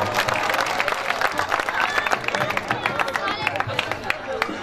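Loud, dense applause from a large mushaira audience in Ghosi, Mau, with crowd murmur and scattered cheering running steadily through the whole stretch.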